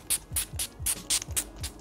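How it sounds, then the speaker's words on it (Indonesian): Perfume from a spray bottle sprayed in quick repeated bursts, about seven short hissing puffs in a steady rhythm, close and fairly loud with no talk. "Langsung aja nih, semprot-semprot."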